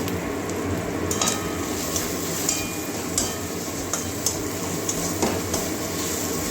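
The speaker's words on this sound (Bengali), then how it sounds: "ভালো করে এটা মশলা ভেজে নেবো" Kundri and potato fry with cumin, coriander and other spices in a pan, a dense steady sizzle broken by light spatula scrapes and taps at a regular pace, close up and without speech.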